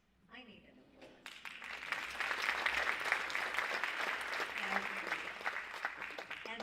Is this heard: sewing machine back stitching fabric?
no